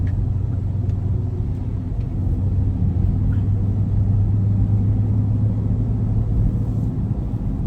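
A car drives through traffic in heavy rain, heard from inside as a steady, loud low road rumble that holds constant the whole time with no talking.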